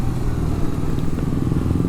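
A Suzuki GSX-S150 motorcycle engine drones steadily while riding, a loud, close, continuous rumble with road and wind noise layered over it.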